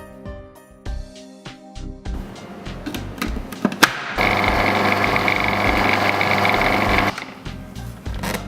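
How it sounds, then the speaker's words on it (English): An electric mixer motor whirs as it creams butter, brown sugar and beaten eggs, starting and stopping in short bursts with clunks before settling into a steady, loud mechanical drone that cuts off near the end. "Once that's all in and the motor's going, we're going to add in the 2 beaten eggs"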